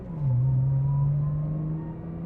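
Nissan GT-R NISMO R35 with 150,000 miles, freshly rebuilt transmission and big clutch, accelerating hard through the 2-3 gear shift: a loud, steady engine drone dips briefly at the shift, then pulls on strongly, close up with no talk.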